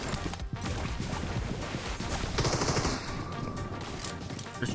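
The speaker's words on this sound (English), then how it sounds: "He's shooting out the window" Dense, continuous gunfire in PUBG Mobile, with rapid overlapping shots and a cluttered battle din running throughout at close range.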